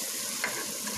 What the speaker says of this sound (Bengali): তার সাথে দিয়ে দিচ্ছি এখন পেঁয়াজ কুচি।